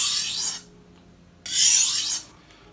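A knife scraped across a sharpening stone in two long, close rasping strokes separated by a short pause.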